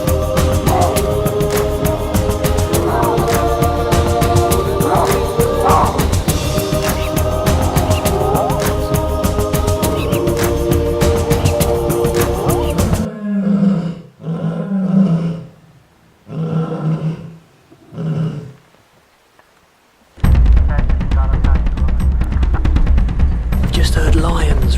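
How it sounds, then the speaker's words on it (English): Lions roar close by at night in the bush, a series of deep, loud, pulsing calls over a steady background, followed by quieter grunts and a stretch of noise. "Lions roaring quite close."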